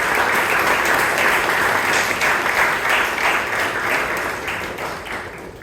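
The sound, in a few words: applause for Toastmaster Richard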